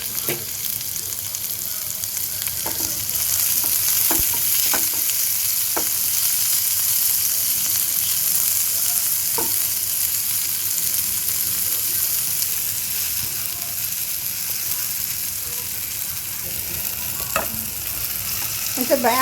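Chopped onion and tomato tempering sizzle steadily in a pan for a Goan beef xacuti, a loud continuous frying hiss broken by occasional scraping stirs and light taps, no one speaking.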